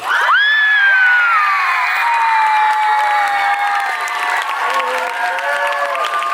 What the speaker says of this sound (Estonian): täna tuleb siit kõige suurem aplaus, mis te teinud olete